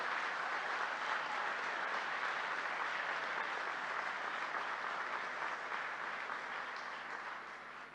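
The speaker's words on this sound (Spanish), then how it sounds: "un aplauso para el gobierno popular de Colombia." A crowd applauds the popular government of Colombia, a dense, even wash of many hands clapping heard at a moderate distance, sustained throughout and easing slightly toward the end, with no voices over it.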